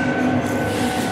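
A metro train in Rome rumbles loudly nearby, a sustained underground roar with a steady tonal whine from the motors and no voices over it.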